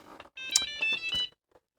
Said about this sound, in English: It makes a little beep sound.